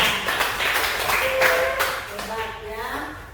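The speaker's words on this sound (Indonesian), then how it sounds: "Tepuk tangan dulu buat kita semuanya." Elementary school pupils clapping hands together in a classroom, a brief burst of quick claps with a voice speaking over it.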